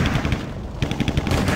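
Mortar fire from a unit in the real-time strategy game Warcraft III: The Frozen Throne, a rapid series of sharp explosive shots in bursts over a steady background of game sound.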